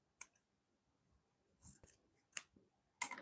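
Fabric scissors snip away excess sewing fabric in a few quiet, separate cuts: one short snip, then a cluster of crisp blade closures, and a final sharper snip, all close and isolated against silence.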